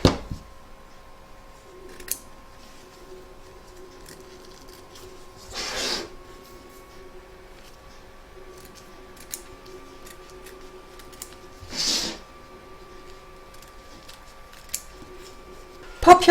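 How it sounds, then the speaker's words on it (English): Scissors trim excess fabric from an embroidery hoop in a quiet room, with two or three short, crisp snips separated by long pauses over a faint electrical hum. "Trim up all the excess fabric from the front and back of your hoop"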